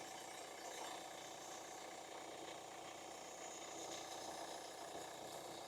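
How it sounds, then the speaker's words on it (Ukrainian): A 2014 Kia Sportage with a 2.0 CRDi diesel engine and automatic gearbox idles with an even, faint mechanical rumble and light ticking, steady and without voices. "Двагун працює справно, тихо та без зайвих шумів."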